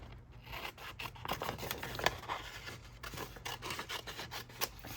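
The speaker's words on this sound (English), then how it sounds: "now I am going to fussy cut out our bits" Scissors fussy cutting stamped card pieces for handmade Christmas cards, producing faint, close snips and rubbing paper sounds in an uneven rhythm with no talking.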